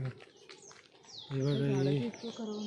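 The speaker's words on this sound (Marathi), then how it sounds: "शांत बसला तर पक्ष्यांचा आवाज ऐकायला मिळतो" Birds chirp repeatedly outdoors with high, quick, sweeping calls while a person talks nearby.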